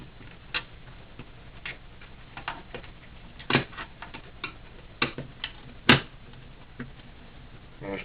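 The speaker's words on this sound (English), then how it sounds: "you can use just a regular size screwdriver for this one" Small screws come out of a Nintendo GameCube console under a regular-size screwdriver, heard as close, irregular clicks and ticks of metal on plastic with a few sharper clacks between quieter scraping.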